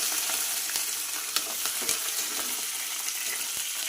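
Curry leaves and green chillies dropped into hot frying oil give a loud, continuous crackling sizzle with brief sharper pops, close up.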